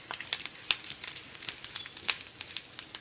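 Egg frying in a pan on a stove, giving a soft, steady sizzle with scattered crackles and pops throughout, fairly faint and heard alone.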